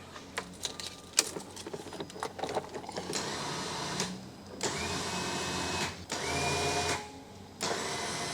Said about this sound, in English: And now make sure to test your winch, make sure she works.